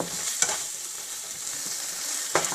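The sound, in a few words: grated carrots cooking in a pan for pav bhaji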